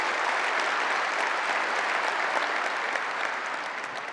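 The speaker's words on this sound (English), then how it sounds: "can we get one more round of applause" Sustained applause from a large audience at a tech company general session in Las Vegas, dense and steady clapping throughout, loud and close, with no talking.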